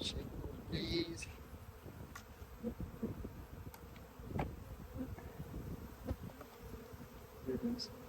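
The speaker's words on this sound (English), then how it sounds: "Bees are there." Honey bees buzzing around an opened, long-abandoned hive being unwrapped in a yard, a steady close swarm drone with individual insects zipping past the microphone, some faint handling noises.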